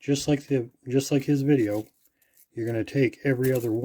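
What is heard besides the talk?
None of the usual background noises is heard.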